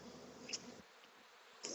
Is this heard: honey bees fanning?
yes